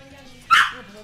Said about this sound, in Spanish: ¡Qué susto me ha dado el perro!